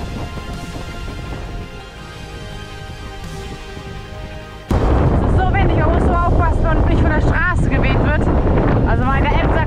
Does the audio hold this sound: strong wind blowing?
yes